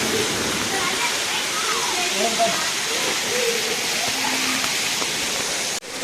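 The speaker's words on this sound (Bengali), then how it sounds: "কোথা থেকে আসছে ঝর্ণাটা" Seven Sisters Falls at Cherrapunji roars in a steady, loud, close rush of falling water, with people talking over it; near the end the roar dips briefly.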